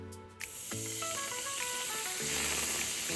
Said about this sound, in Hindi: इसमें अब हम दूध डालेंगे।